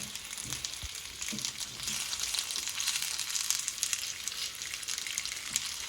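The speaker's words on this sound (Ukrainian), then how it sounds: "Ось смажу до такої рум'яної шкуриночки." Steady crackling sizzle of dumplings frying in a hot pan, continuous and fairly close, with no voices.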